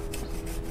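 A hand saw rasps back and forth through the wood of a yellow apricot bonsai tree in a garden, in steady, rapid, close strokes with a gritty, scraping texture and no talk.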